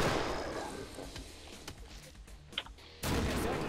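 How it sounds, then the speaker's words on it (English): A grenade blast in Killing Floor: a broad rumbling burst at the start that trails off, scattered thuds and shots, then another loud sudden crash near the end. "Oh, watch out, I threw a grenade."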